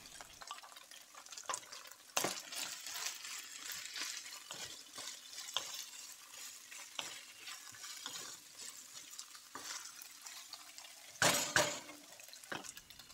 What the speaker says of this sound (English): we'll let this fry for just a minute or so